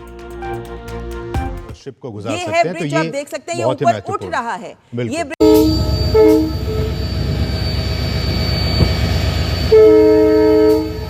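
Speech first, then a train rumbles loudly past with a sustained horn blast and screeching wheels, the horn sounding again near the end.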